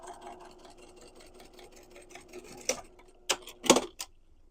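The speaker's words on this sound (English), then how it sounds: "We're just going to sew that little opening shut." A sewing machine stitches shut the small opening of a quilted tote bag with foam lining. A quiet, rapid rattle is followed by several sharp clicks and thumps as the fabric is handled.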